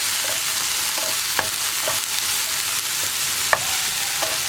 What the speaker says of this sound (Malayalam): ഇനി നമുക്കിതൊന്ന് ഇളക്കി മിക്സ് ചെയ്യാം